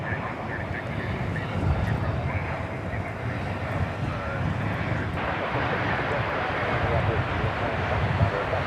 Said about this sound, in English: American Flight 1772 about to arrive from Orlando. It's going to be an Airbus A321.